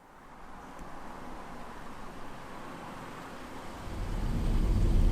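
A 2022 Kia Stonic compact SUV drives along the road, its steady, subdued cabin and road hum swelling gradually louder toward the end, with no one talking.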